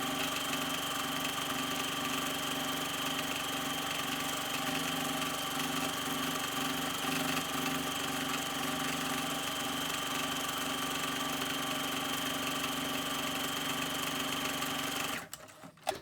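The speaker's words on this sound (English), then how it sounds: "I'm gonna go ahead and just sew around the edges of this one" A sewing machine runs steadily, stitching around the edges of a junk journal cover in one continuous, close, even hum for about fifteen seconds before stopping abruptly.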